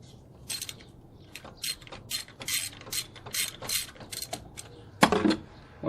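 A ratchet wrench clicks in quick bursts while loosening a nut on a Hyundai Elantra thermostat housing, crisp close-up pawl ticking in several runs, ending with a louder metallic clatter.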